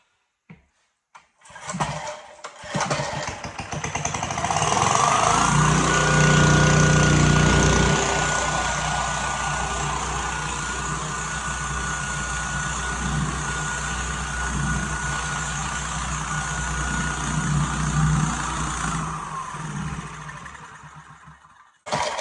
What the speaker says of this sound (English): So there you go, the engine's up and running.